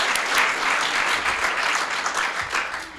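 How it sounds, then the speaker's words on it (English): An audience claps steadily at a city State of the City address after a financial reporting award is announced, the applause dense and sustained throughout without fading. "We can clap right there."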